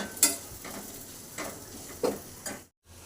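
Tomatoes sautéing in oil with green chilies, a quiet sizzle broken by a few distinct spoon clinks and stirring scrapes against the pan, ending in a brief cut to silence.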